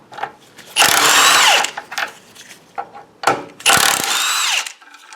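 An impact wrench removing 16 mm bolts during a rear-wheel-drive car clutch replacement whirs in two long loud bursts, with shorter clicks and clanks of metal between them.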